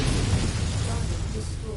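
An incoming missile explodes in Mechwarrior 5 Mercenaries as a deep, rumbling blast with dense low-end boom. It is sustained and loud throughout, with the roar of combat filling the space.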